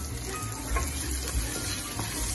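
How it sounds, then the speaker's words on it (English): Onions and garlic sauté in a pan, a steady low sizzle with a few soft stirring knocks, fairly close and with no talking. "I saute my onions, my garlic."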